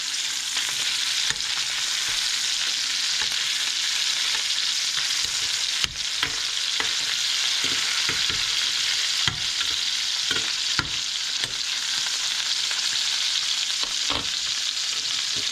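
Venison tenderloin fries in a pan as it is turned again and again, a loud, continuous sizzle broken by soft knocks and scrapes of flipping, with no talking.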